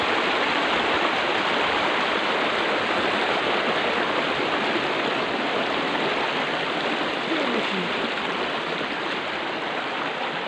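A river flows at a rural site, its steady broadband rush of moving water continuous and close throughout, with no voices.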